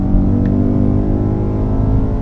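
A BMW E92 M3 with a six-speed manual gearbox revs steadily and loudly nearby, its engine holding a smooth, rich tone for a couple of seconds.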